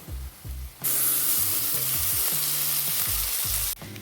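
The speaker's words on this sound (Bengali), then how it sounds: "তো পেঁয়াজগুলো হয়ে গেছে এবারে চাউমিনটা দিয়ে দিব" Chow mein is tossed into a pan of frying onions and bursts into a loud, steady sizzle that holds for about three seconds, with a low, uneven background hum running throughout.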